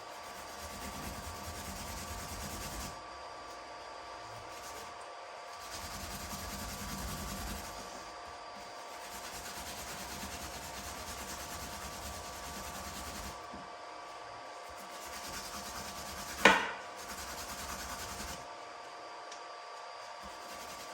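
Steady abrasive scrubbing on steel to strip tarnish and heat staining, a continuous rough rubbing in repeated strokes with brief pauses and one sharp knock partway through.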